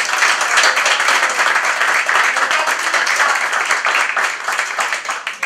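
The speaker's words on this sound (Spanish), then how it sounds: "quiero un fuerte, muy fuerte aplauso para Yolanda y Sinestesia" An audience claps steadily at a tribute event in Barcelona, dense sustained applause that fades slightly toward the end.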